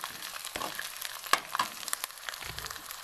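Tempering of green chilli, garlic and ginger frying in a hot pan, a steady crackling sizzle with a few louder pops, heard alone without talk.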